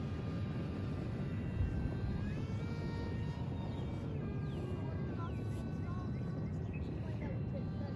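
Electric motor of a 3D-printed RC flying wing running at half throttle, a steady droning whine with faint shifting tones over constant wind rush, continuous and moderately distant throughout.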